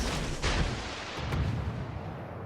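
Naval gunfire from friendly destroyers in World of Warships: a couple of muffled, booming cannon shots with rolling low rumble, distant-sounding and without talk.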